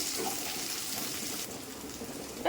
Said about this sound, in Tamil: சின்ன வெங்காயம் கட் பண்ணி வச்சுருக்கோம் இல்லையா அதை போட்டுக்கலாம் அதையும் போட்டு அதையும் ஒரு நிமிஷம் வதக்குங்க